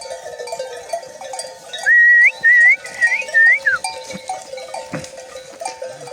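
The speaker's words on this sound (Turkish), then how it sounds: "Hele koyun nasıl suya koşuyor ya şuna." Village sheep hurrying to water in rural Anatolia, a steady rustle of movement with a few short, loud whistled calls in quick succession near the middle.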